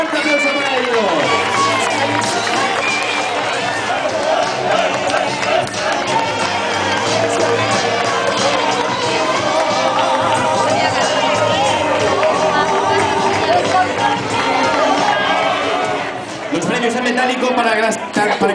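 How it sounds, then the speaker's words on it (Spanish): A crowd at a popular running race and walk cheers and claps for the participants at an awards ceremony, a loud, dense, continuous roar of applause, shouts and babble that stays steady throughout. "Un fuerte aplauso para ellos."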